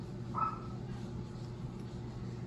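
One short dog bark sounds faintly in the background over a low, steady hum.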